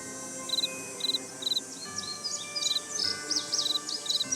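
Bird calls in the video game Nancy Drew: Ghost Dogs of Moon Lake, quick bursts of high chirps repeating roughly every half second over a steady ambient outdoor hum, with no talking.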